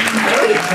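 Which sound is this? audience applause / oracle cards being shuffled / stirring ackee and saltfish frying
audience applause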